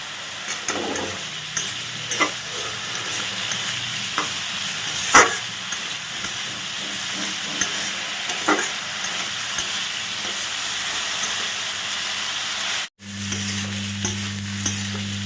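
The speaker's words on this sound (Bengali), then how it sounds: "দিয়ে ভালো করে এটাকে আগে বেগুনটাকে ভেজে নেব" Brinjal fries in a pan with salt and turmeric, giving a continuous close sizzle under repeated spatula stirs and scrapes, followed by a short gap and then a steadier hum of frying.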